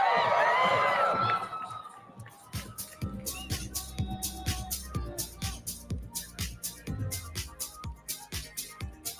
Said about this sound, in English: keep that cheer going